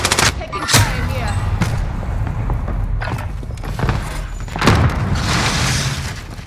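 Bursts of automatic gunfire and sharp shots crackle through a Call of Duty: Modern Warfare firefight, loud and close, with a player talking over the shooting.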